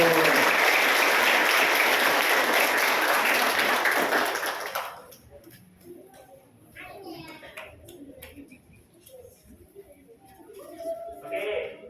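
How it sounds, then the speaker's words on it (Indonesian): Loud applause from a congregation at a Christmas morning Mass fills the first few seconds, then stops abruptly, leaving quieter background chatter and children's voices. "tepuk tangan Bapak Ibu"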